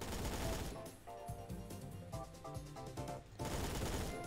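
Machine gun fire in Phantom Forces, a first-person shooter, comes as loud rapid bursts at the start and again near the end, with a musical, tonal stretch between the bursts.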